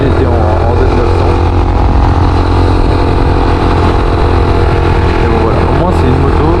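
A Yamaha YBR 125 motorcycle runs at a steady mid-pitched drone while being ridden, loud and close with wind buffeting, constant throughout without clear revving.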